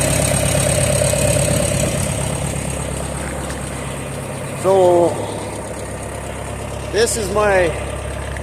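A John Deere 3010 diesel tractor idles with a steady, slightly rough low rumble throughout, close and loud, while someone speaks briefly over it.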